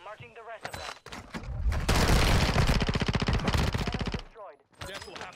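Rapid gunfire from a Warzone 2.0 firefight, a sniper rifle shot in the mix, fills the middle of the clip as a loud, sustained burst of repeated shots for about two seconds, with voices talking before and after.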